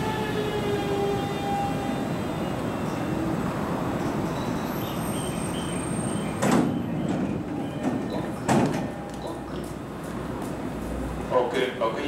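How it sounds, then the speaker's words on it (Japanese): Train doors slide shut on a JR train at Oku Station with a couple of sharp thumps over a steady, loud rumble and hiss of the waiting train. "1番線最終列車上野行き、ドアが閉まります。"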